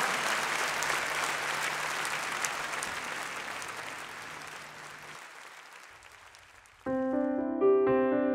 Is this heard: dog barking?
no